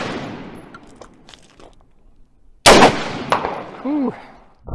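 An AR-15 rifle fires a single loud, sharp shot at close range into a stacked Galaxy and iPhone, a sudden blast followed by a brief ringing decay and a short voice reacting afterward.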